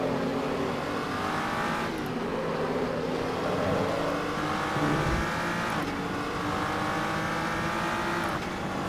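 A V6 turbo GT3 race car in Assetto Corsa on the Nürburgring GP circuit, heard from the cockpit with a flat, steady engine drone that rises through the revs and drops at each gear change, with no voices.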